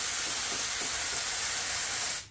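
A spray gun spraying upholstery glue gives a steady, broad hiss without a break, loud and close, then cuts off abruptly at the end.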